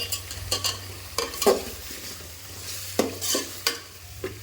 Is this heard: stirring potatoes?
yes